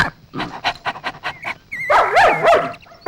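Dogs bark, pant and whimper close by in a quick series of sharp yelps followed by longer whining, rising cries, loud and with no talk.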